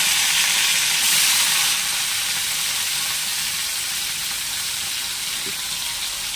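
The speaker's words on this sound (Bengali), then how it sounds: "কই মাছগুলোকে ভালো করে একটু ভেজে নেব।" Large koi fish fry in hot oil with a dense, steady hiss that stays loud and close throughout, easing slightly after the first couple of seconds, with no talking.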